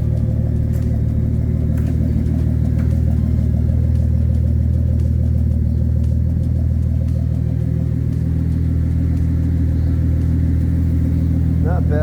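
A Datsun 280ZX Turbo idles steadily through a new 3-inch exhaust, a loud, deep and continuous rumble close by for the whole stretch.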